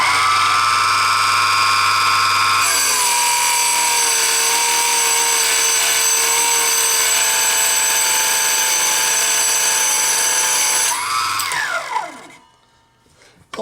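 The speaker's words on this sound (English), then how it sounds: "Here is a piece of aluminum, and I did not change the saw blade." A Proxxon KGS 80 mini mitre chop saw with its stock 36-tooth carbide blade runs up with a loud whine, cuts through a piece of aluminum for several seconds, then winds down, alone without talk.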